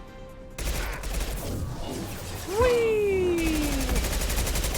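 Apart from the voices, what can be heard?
weapon gunfire in the video game Mass Effect Legendary Edition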